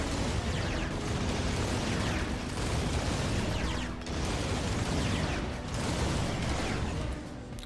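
Mortar shells bursting in the game Rimworld: a continuous dense rumble of explosions, close and loud, with heavier boom peaks recurring every few seconds.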